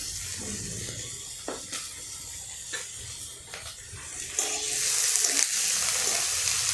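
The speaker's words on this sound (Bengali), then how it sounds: "একটু লাল করে ভেজে নিতে হবে, খুব বেশি ভাজার প্রয়োজন নেই।" Chopped onion fries in oil with a soft, continuous hiss and a few light stirring taps, and the sizzle swells louder near the end.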